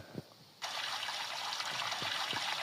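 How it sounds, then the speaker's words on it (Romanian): A steady stream of running water from a shower in the video game Brookhaven starts abruptly after a short quiet moment and continues evenly, spraying, with a few faint clicks underneath. "și aici dușul"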